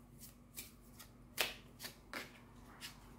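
Angel oracle cards being shuffled by hand in a series of soft, papery riffles and slides, several separate bursts spaced across a quiet room with no one talking.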